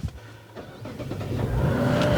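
A 2024 Mazda CX-90 Premium Plus engine starts up from inside the cabin, a low crank rising into a steady, building idle hum over about two seconds, with no talking.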